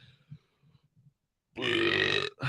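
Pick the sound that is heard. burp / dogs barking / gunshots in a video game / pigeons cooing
burp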